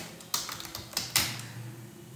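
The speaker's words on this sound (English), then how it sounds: "Now first I will start typing the question." Someone types on a computer keyboard while entering a question, giving a few quiet, close key clicks in a short irregular burst with no talking.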